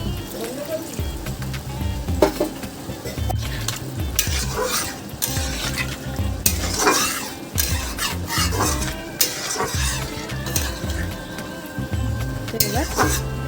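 Water goes into a tomato masala in a pan for a fish curry, followed by bubbling, sizzling and repeated stirring and scraping of a spatula against the pan, with no talk.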